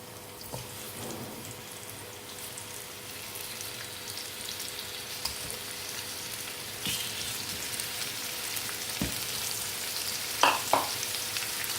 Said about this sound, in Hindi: इसमें मैंने थोड़ा सा ऑयल डाला है। तो इसमें हम फिश को फ्राई कर लेते हैं।